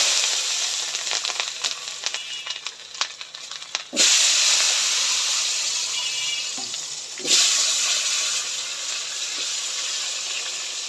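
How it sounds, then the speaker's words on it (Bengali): Potatoes and eggplant frying in hot oil give a loud, steady sizzling hiss, with two sharp surges as more goes into the pan and faint stirring clinks. "এবার আলু বাগুনটা ভালো করে ভেজে নিব"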